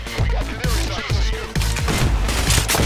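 Rapid bursts of gunfire from the heist shooter Payday: The Heist, several sharp volleys in quick succession with a loud fusillade texture, close and dense, with faint voices underneath.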